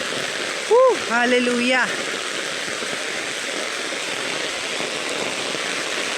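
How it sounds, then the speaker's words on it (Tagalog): Heavy rain pours down in a steady, dense hiss that fills the whole stretch, with a single voice calling out briefly near the start. "abutan ka pa ng malakas na ulan"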